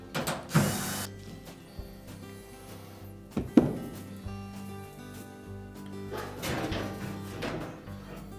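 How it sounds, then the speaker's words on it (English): Screws being removed from the back panel of a Frigidaire washer make close mechanical whirs and ratcheting from a driver, with a few sharp clunks as parts shift, and no speech. "Just remove all of the screws on the outside edge."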